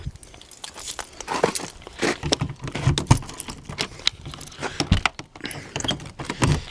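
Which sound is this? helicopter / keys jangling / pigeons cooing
keys jangling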